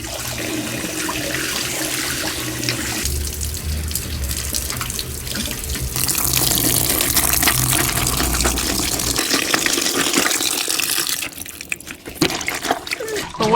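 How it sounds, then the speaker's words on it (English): Tap water runs steadily into a sink as a down jacket is rinsed by hand, a close, continuous gush with some sloshing partway through and a brief drop near the end. "And now we have to rinse."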